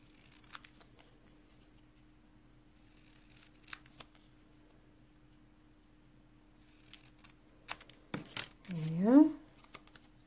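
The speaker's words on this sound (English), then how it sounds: "Right, so I'm going to trim this a little." Scissors snip through a paper card in a few short, sparse cuts, quiet and close, with a brief voice and a crinkly rustle near the end.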